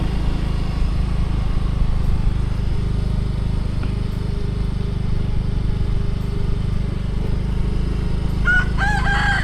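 Village chickens at a rice-field hut in rural Isan, Ubon Ratchathani, with a rooster crowing near the end over a constant loud low rumble of engine-like background noise.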